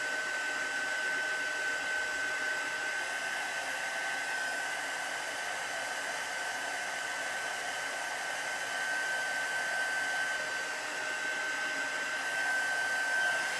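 A hair dryer blowing on wet chalk paste used for a stencilled craft project, a steady close whir with a high whine that runs unbroken and alone throughout.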